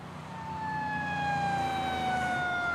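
A wailing siren sweeps down in pitch over a low engine rumble, growing slightly louder as it approaches.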